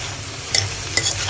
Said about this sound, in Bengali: মশলা দিয়ে বটবটিটা এখন ভাজা ভাজা করে মশলাগুলো